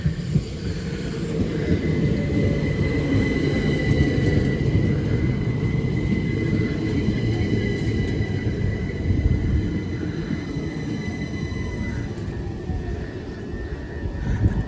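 A train rumbles steadily past a rural Kent railway station, a loud, low continuous roar with a faint higher whine above it, sustained for the whole stretch with no talk.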